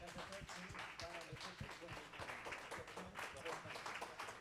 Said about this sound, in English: If we could bring our youth finalists back up here for one more round of applause.